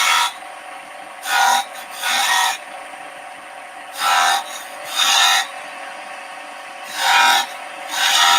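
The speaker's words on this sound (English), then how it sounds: "I just mark it with a skew chisel out into 3/4 inch increments" A skew chisel marking turned wood on a lathe at 3/4 inch increments gives six short scraping rubs in pairs, each under a second, over a steady high machine hum.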